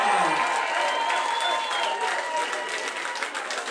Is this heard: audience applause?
yes